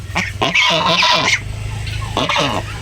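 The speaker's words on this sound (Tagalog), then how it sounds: "ito po yung aking malambing na gansa" A tame pet goose giving two loud, close honking calls, the first long and drawn out, the second shorter, with a low steady hum underneath.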